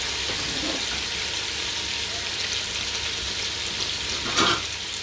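Chicken pieces frying in a pan for a one-pot chicken and rice, giving a steady, close sizzle with a brief louder burst near the end.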